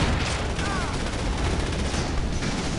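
Dense, continuous gunfire and explosions from the real-time strategy game Command & Conquer 3: Kane's Wrath fill the mix loudly throughout, with unit voice lines mixed in.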